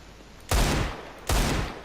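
Two loud, close gunshots from a Counter-Strike: Global Offensive match, spaced under a second apart, each a sharp blast with a short ringing tail.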